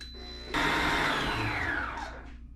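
An electric mixer starts abruptly and whirs loudly while combining cookie batter ingredients, its motor pitch sliding downward as the load increases, then easing off near the end.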